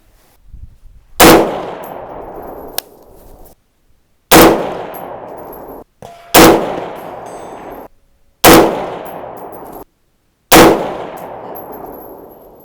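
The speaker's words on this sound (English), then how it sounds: "shoot the last 4 groups here" Five sharp, loud 6.5 Grendel rifle shots firing Hornady 120gr ELD-M rounds crack out one at a time, roughly two seconds apart, each with a decaying echo tail and a faint metallic ring.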